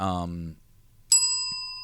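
A short burst of voice, a brief pause, then a single bright bell ding that rings on clearly and slowly fades.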